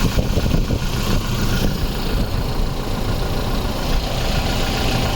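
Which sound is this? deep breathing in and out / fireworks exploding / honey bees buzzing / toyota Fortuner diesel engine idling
toyota Fortuner diesel engine idling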